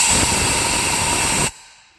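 Air hisses loudly and steadily from a leaking valve on a project car engine, a close, sustained rush that cuts off abruptly after about a second and a half, leaving faint background noise.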